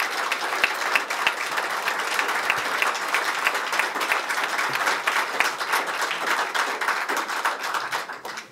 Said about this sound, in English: Ladies and gentlemen, please give a warm round of applause for the Honorable Wilson Livingood.